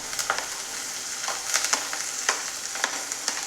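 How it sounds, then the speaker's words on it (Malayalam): Finely chopped beetroot and carrot sautéing in a pan with spluttering mustard seeds for thoran make a low steady sizzle, punctuated by repeated sharp pops and crackles throughout, with no speech. "കടുക് പൊട്ടി തുടങ്ങിയിട്ടുണ്ട്. ഇനി നമ്മൾക്ക് അതിലേക്ക് അരിഞ്ഞു വെച്ച ബീട്രൂട്ടും ക്യാരറ്റും പൊടി പൊടിയായി അരിഞ്ഞത് ചേർത്ത് കൊടുക്കാം."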